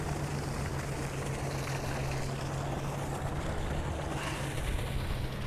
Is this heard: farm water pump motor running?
yes